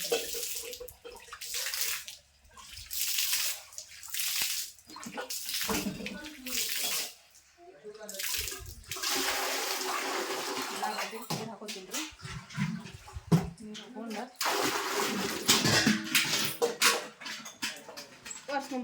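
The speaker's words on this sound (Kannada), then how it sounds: "ಮನೆಗೆ ನೀರು ಹೊಡಿತೀನಿ ರೀ" Water splashes and runs steadily as a house is washed down, with a dog whimpering and barking at intervals.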